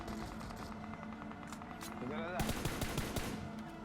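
Automatic gunfire in the mobile battle royale game BGMI, with rapid bursts of shots that grow louder and denser toward the end over a steady game background.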